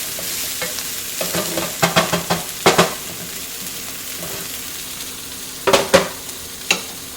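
Bacon frying in a pan for a pastrami sandwich, with a soft steady sizzle beneath a series of close scraping and stirring strokes, clustered in short bursts with pauses between.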